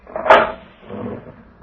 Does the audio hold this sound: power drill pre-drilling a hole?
no